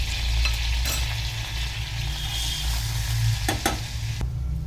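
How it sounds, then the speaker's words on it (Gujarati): Oil and butter sizzle and crackle steadily in a kadai as a tempering of cumin and Kashmiri chili fries, with a few stirring clicks and a low, constant frying hiss throughout. "વઘાર કરવા માટે એક ચમચો કઢાઈમાં તેલ મૂક્યું છે અને એક ચમચી બટર નાખશું ગરમ થાય એટલે અડધી ચમચી જીરું એક નાની ચમચી કાશ્મીરી મરચું"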